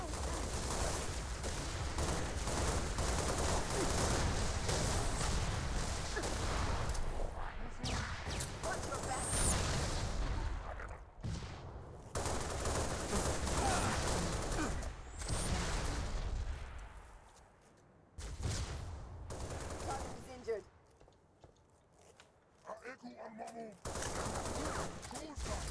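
Sustained bursts of automatic gunfire in the Halo Reach video game ring out across most of the stretch, dense and loud, with brief lulls and a quieter gap near the end, while a voice talks over the action.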